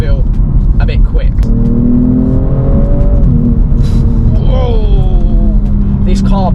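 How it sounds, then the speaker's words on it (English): A BMW M2 accelerates hard through the gears, its engine note climbing in pitch, dropping at a shift and rising again, loud and close, with a voice speaking over it. "This car picks up some serious speed very quickly."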